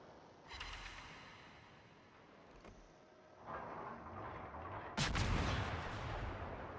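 Naval guns fire volleys during a World of Warships battle: a few separate booming blasts, the sharpest and loudest near the end, each trailing into a rumbling decay against a quiet background.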